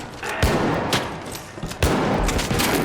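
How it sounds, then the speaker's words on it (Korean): Video game gunfire crackles in quick, close, loud bursts, with several sharp shots over a few seconds. "나 같이 쏘고 있어"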